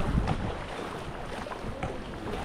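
Water sloshing and rushing around a river raft being paddled, with wind buffeting the microphone and a few splashy knocks, steady and close.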